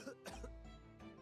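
A character in The Great Ace Attorney coughs, a short, close, raspy burst of two or three harsh coughs with a throaty catch, standing alone.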